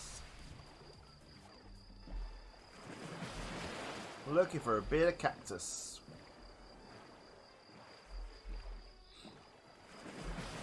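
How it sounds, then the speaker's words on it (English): Gentle ocean wave ambience washes through a Minecraft world at a low, steady level, with someone talking over it through the middle. "Ocean noise is relaxing."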